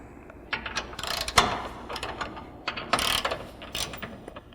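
Ratchet fitted with an 18mm socket spinning on the rear bumper bolts of a JL Wrangler, with several bursts of quick clicking pawl ratcheting, close and fairly quiet, and no talk.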